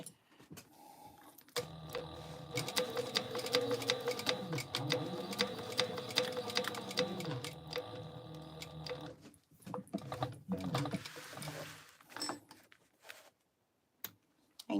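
A sewing machine stay-stitching a backpack fabric piece, running in a steady close whirring burst for several seconds, then pausing and restarting in shorter runs with faint handling clicks.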